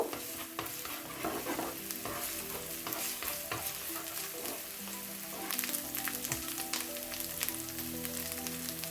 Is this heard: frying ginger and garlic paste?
yes